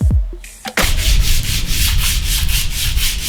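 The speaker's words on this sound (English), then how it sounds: "A bit of sanding cleaned up the surfaces" Continuous rhythmic sanding of a brake disc, a close, loud scratchy rubbing in regular back-and-forth strokes following a brief clatter at the start.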